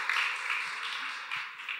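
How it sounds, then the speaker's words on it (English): Audience applause at a panel discussion on women in STEM, a short steady patter of many hands clapping, somewhat distant and soft. "Clap to that."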